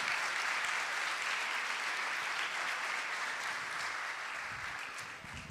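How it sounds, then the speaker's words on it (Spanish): Conference audience breaking into sustained applause, a thick, even roar of many hands clapping that holds steady and eases slightly toward the end, with no speech over it. "Ya le dimos un aplauso, no lo escuché bien, ¿eh?"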